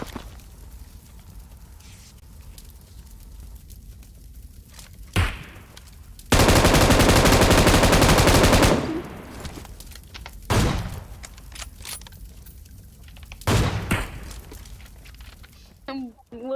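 Gunfire in PUBG Mobile hits the player's vehicle: scattered single shots, then a dense, very loud burst of automatic fire lasting a few seconds, followed by more isolated cracks, with a voice talking in the background.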